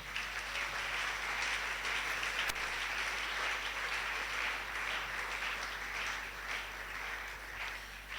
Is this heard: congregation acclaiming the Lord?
yes